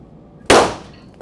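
A single sharp gunshot cracks out in the zombie game Fort Zombie. It is loud and close, with a short fading tail and quiet surroundings before and after.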